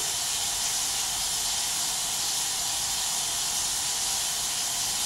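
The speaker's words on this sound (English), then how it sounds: "Start washing your hands vigorously." A steady, loud rush of warm running water pours from a tap into a sink while hands are washed. The hiss stays constant and unbroken throughout, close and alone.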